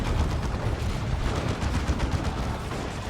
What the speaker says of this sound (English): that was a very nice grenade